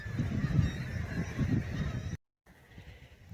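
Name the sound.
birds calling on the cliffs at South Shields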